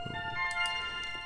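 A soft electronic website message notification chime sounds, a short bright melodic tone ringing out briefly against faint background noise.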